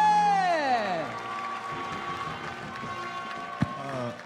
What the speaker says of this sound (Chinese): 掌声欢迎我们最新的悍将校草